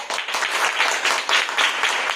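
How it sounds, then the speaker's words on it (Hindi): Upper primary school students welcome a classmate to the front with a short burst of applause, close and lively, with clustered uneven claps over about two seconds. "सभी लोग इनका तालियों से स्वागत करेंगे।"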